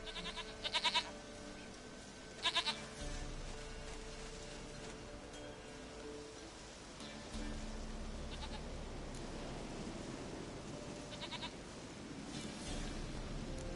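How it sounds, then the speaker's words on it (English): Goat bleating in the Witcher 3 video game, several short bleats, with two loud bursts at the start and fainter calls later, over a steady game ambience and a low rumble, with no voices. "goat of mine, dearest, sweetest goat."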